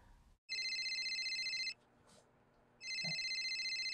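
A cell phone rings with a bright electronic tone in two bursts separated by a short pause. It is fairly quiet, heard alone in a room.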